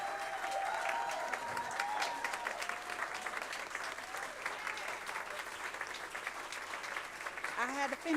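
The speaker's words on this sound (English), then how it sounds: "let's give a big round of applause" Sustained applause from an audience at a school board of education meeting, a dense crowd clapping steadily throughout with a few voices and a brief whistle over it.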